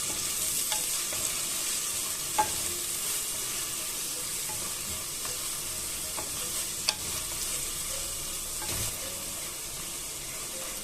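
Garlic paste, chili paste and curry leaves stirred in a hot pan for a Kerala village-style coconut fish curry, a steady close sizzle with occasional spoon scrapes and taps, no talking.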